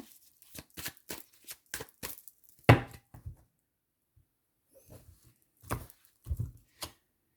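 A deck of tarot cards being cut and handled, soft papery riffles and taps in short clusters with one sharp slap, close and quiet against near silence.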